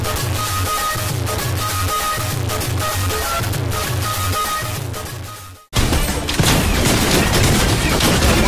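Rapid gunfire from a weapon in a Fortnite-style shooter game, steady bursts for several seconds over game music, then a sharp break followed by a crash of louder shots and debris.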